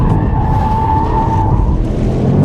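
Tyres squeal on a Porsche Panamera Turbo as it slides on a race track with the traction control off, a loud sustained screech over engine roar, with no talking.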